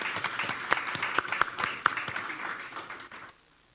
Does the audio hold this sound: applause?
yes